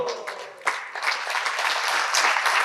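Audience clapping at a Srimad Bhagavatam lecture by a Hare Krishna swami, a dense burst of applause that swells after a brief dip and holds steady, filling the room without speech.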